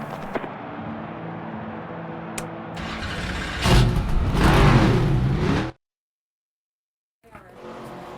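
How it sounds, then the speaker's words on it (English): Race car engines in the NASCAR 25 video game fire up and rev for an ARCA Menards Series race at Bristol, a loud rising engine roar that builds to a peak, cuts to silence, then resumes. "Drivers, start your engines!"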